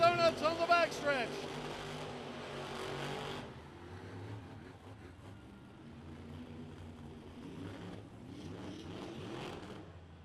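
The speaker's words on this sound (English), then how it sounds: "doing some donuts on the backstretch" A race truck's engine revs hard and wavers as the truck does donuts on the backstretch at Bowman Gray Stadium, loud at first, then dropping to a distant rumble with faint voices.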